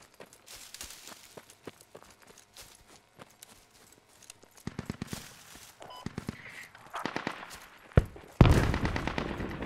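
Gunfire in a military shooter game during an airfield assault: scattered single shots and short bursts, mostly distant at first, then growing louder and denser toward the end, with no talk.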